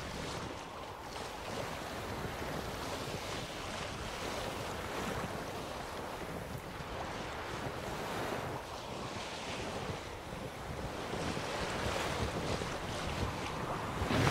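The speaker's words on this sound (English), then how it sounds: "Sails fluttering." Boat on open water in The Witcher 3 video game, with steady wind and surf washing continuously under fluttering sails, a dense even roar that swells slightly toward the end.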